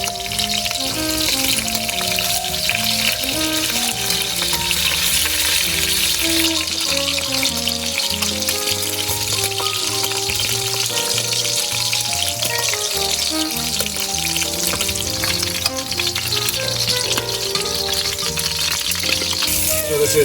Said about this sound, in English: I'm going to sear these in order to get the fond, get the brown stuff on the bottom of the pan